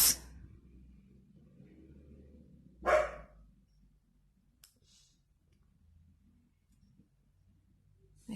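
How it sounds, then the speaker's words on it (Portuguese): A female dog barks indoors at someone passing on the street: a loud burst at the start and a second bark about three seconds in, with a faint low hum and light clicks between them. "A cachorra fica brava, gente, quando passa alguém ali na rua."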